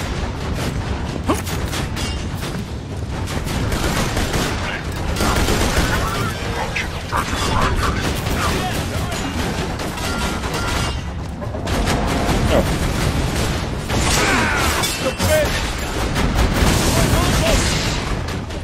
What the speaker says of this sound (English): Your turret's awesome.